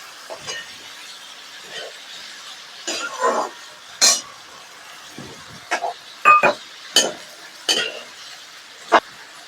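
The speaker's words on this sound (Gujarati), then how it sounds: "હવે આને થોડીક વાર આપણે હલાવીએ" Carrots, peas and potatoes being stirred in a pan for pulao, with a spoon scraping and clinking against the metal in irregular bursts over a quiet background sizzle.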